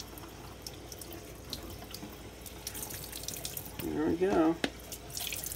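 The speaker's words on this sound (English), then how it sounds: "Rinse them one more time." Tap water runs over tomato seeds being rinsed in a sink, a steady close splash with a brief louder burst near the end, and a voice speaks briefly over it.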